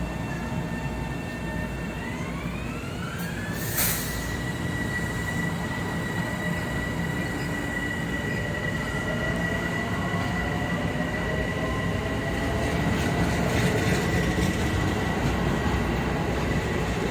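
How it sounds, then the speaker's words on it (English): A Metro-North Harlem Line train at Crestwood station bound for Grand Central, heard trackside as a steady rumble with a sharp horn-like tone early on and rising wheel and motor whine, no talking. "we have a train that just arrived going to Grand Central."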